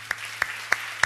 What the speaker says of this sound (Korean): 감사의 박수 올려드리도록 하겠습니다.